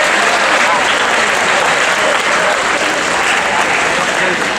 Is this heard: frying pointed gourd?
no